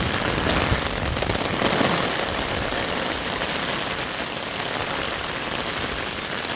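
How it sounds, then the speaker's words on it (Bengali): Heavy rain pouring down in a rural village, a dense, loud, continuous hiss of drops on surfaces with no voices. "ও বাপরে বাপ বৃষ্টি।"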